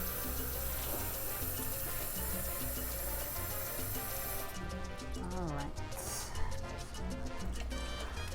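Water poured from a tap into an Instant Pot for pinto bean soup, a steady splashing stream running throughout under background music, changing pitch as it fills.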